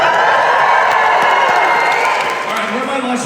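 A large live audience at an animated-show Q&A cheers, shouts and claps in a loud, dense roar that holds steady throughout, with a few higher whoops rising above the crowd.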